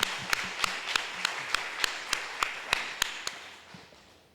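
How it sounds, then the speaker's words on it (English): A lone pair of hands claps slowly and steadily at a political party congress, about a dozen evenly spaced crisp claps, fairly faint, with little else underneath. "Round of applause for that."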